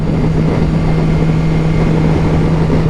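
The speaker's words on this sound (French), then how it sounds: "Le bruit est quand même assez présent du moteur" BMW S 1000 XR motorcycle engine heard while riding: a loud, steady drone with a constant hum and heavy wind rush that holds evenly throughout, with no speech.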